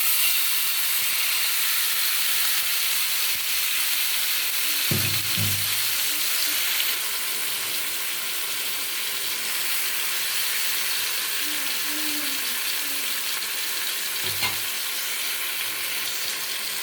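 Marinated fish frying in hot oil with black cumin: a steady hissing sizzle, plus a couple of louder bumps as pieces go in or get moved, continuing without any talking.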